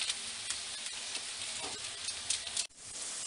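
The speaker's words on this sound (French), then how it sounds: "Je reviens vers mes lardons que je viens un peu remélanger." Lardons sizzling and being stirred in a frying pan, a steady close hiss with soft scraping, a brief clatter near the end and no talk.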